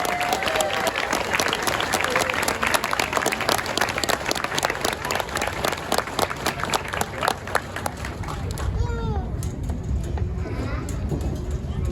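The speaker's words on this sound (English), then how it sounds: "Please join me in a round of applause for the company staff of Delta Company" Sustained crowd applause at a Marine Corps graduation ceremony honoring Delta Company staff, broad and continuous with scattered cheers, thinning into fainter outdoor murmur near the end.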